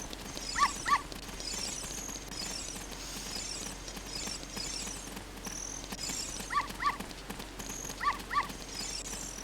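Dog in the Nintendo 64 game Zelda: Ocarina of Time, short paired barking yips repeating at intervals over soft game background sounds, with no talking.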